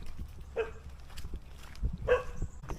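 A dog at a roadside market gives two short, faint barks a moment apart, somewhat distant over low background street noise.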